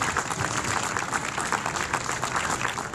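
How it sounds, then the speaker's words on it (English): An audience at the Stars & Stripes River Festival in Oklahoma City applauds in steady, dense clapping that fills the whole stretch at moderate distance. "Let's give him a round of applause."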